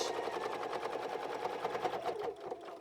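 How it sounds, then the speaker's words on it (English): A sewing machine stitches a quarter-inch seam joining fabric pieces for a puff bag, its rapid, steady needle rhythm running close and continuous before slowing near the end. "So you're just going to sew that 1/4 inch"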